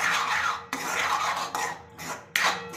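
Moong dal halwa being stirred in a pan, a spoon scraping and rasping against the metal in a few near, distinct strokes with short pauses between them.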